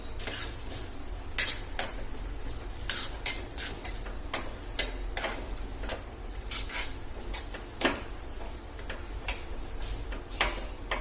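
A spoon stirs Schezwan chutney into upma in a pan, giving a run of light metallic clinks and scrapes, steady and close, with no talking.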